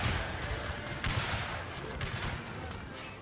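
Soldiers open fire in a Total War battle, a ragged musket volley of overlapping distant shots and crackles, with a few sharper reports standing out against a steady battlefield rumble.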